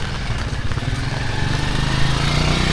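A motorcycle engine drones loud and close on a flooded street, its steady mid-pitched rumble rising slightly as it passes, with faint clatter underneath.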